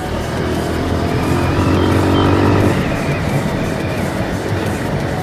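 A Bajaj Pulsar 150 motorcycle ridden along a Mangalore street, its engine droning steadily and loud throughout, with a rising pitch that briefly climbs before settling back into a continuous ride.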